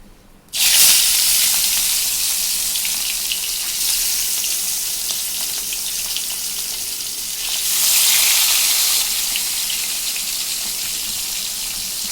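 Small hilsa fish dropped into hot oil in a pan: a sudden loud burst of sizzling that settles into a steady, dense hiss and swells again near the end, close and unbroken.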